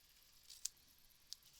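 Fabric scissors cut a paper craft tag, giving two or three faint, crisp snips spaced apart in a quiet room.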